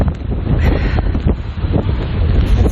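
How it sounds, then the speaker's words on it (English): Strong wind blows outdoors and buffets the microphone, making a loud, continuous rumbling roar that surges and dips for the whole stretch. "It's windy, y'all, but we're still out here."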